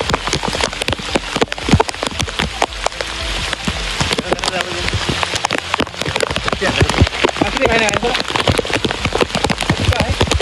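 Heavy first monsoon rain pours down steadily, dense and close throughout, with scattered sharper drop impacts over a continuous wash of noise.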